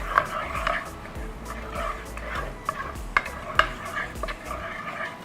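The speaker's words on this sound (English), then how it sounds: "we'll be adding some chopped ginger and chopped garlic. इसको अच्छे से we will saute it." Chopped ginger and garlic sauteing in oil and butter give a low sizzle with scattered spatula clicks and scrapes, close by, with a dog barking faintly at times in the background.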